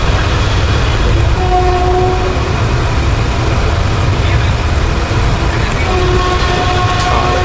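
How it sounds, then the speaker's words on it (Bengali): Steady rumbling of a train departing Azimganj, with brief tonal horn blasts sounding twice over the continuous noise. "আজিমগঞ্জ থেকে পুরো 10টার সময় ট্রেন ছাড়লো"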